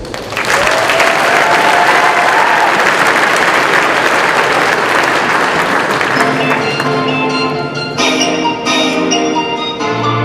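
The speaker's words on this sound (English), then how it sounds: "Please give a round of applause to our next performers." Audience at a school fashion show claps loudly and continuously, dense applause from a crowd that thins toward the end as music begins to come through.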